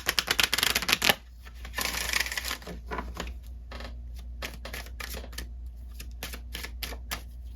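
Lenormand cards being shuffled by hand, a dense riffling burst for about a second and then another, followed by a long run of quick, crisp card taps and flicks up close in a quiet room with no talking.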